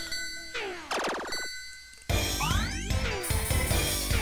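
Bright chiming bell tones ring out in Parodius Da!, the 1990 Konami shooter, as the yellow bell is touched: a few clear descending dings, then a louder, denser burst of metallic clangs and sweeping chimes layered over game music, with no talking.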